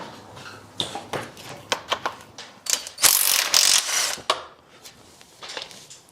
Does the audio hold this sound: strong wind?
no